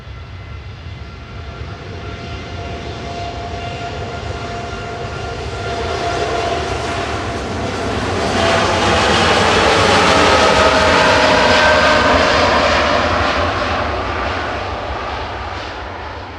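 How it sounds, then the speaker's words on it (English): A TUI airliner takes off from Manchester Airport bound for Melbourne, Florida, its jet engines building into a loud, close roar that swells and peaks midway before slowly fading, with no talking. "Heading off to Melbourne in Florida is TUI with flight 108."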